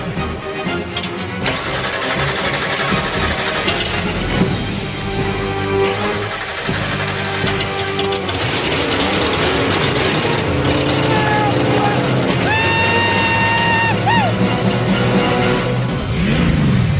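A 1990 Ford Mustang Fox Body engine cranks and catches, then runs and revs steadily, loud and close, with a voice talking over it.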